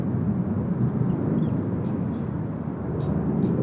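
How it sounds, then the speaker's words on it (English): Thai Airways Airbus A350 jet at Seoul Incheon Airport, a steady, broad low roar of engines holding evenly throughout without breaks, no voices. "Here's one of my faves, the Thai A350 heading back to Bangkok today."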